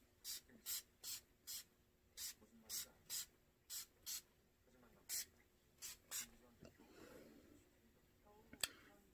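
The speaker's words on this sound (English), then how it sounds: "So I'm going to do my setting spray." A series of short, evenly spaced spray bursts from a pump mist bottle of makeup setting spray, about a dozen quick hisses in a steady rhythm, close to the microphone.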